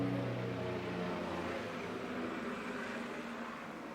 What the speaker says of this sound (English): I got a helicopter buzzing right over the tavern.